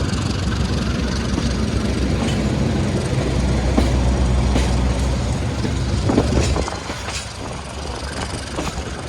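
A railway locomotive passes through a station, a loud, close rumble of engine and rolling wagons with a few rhythmic clacks, easing off toward the end.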